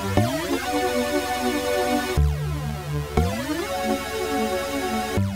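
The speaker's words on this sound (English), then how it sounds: "Slide the portamento time to, I like 7," Square-wave synth lead with portamento glides smoothly between notes, each change sliding up or down into a held buzzy chord; a few slides over several seconds, loud and alone.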